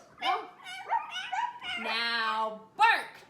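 A person's voice imitates a dog, producing several short yips and a longer, drawn-out whining bark in quick succession, close and clear.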